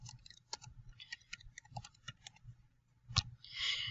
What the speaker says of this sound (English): So let me type that in here.